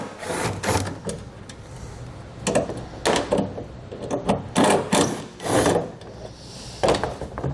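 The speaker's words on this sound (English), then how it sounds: "So we'll pull those out just using a Phillips bit." A drill with a Phillips bit backs screws out of a taillight on a dropped tailgate of a 2017 Chevrolet pickup. It gives a series of short rasping, grinding bursts at close range, separated by brief pauses.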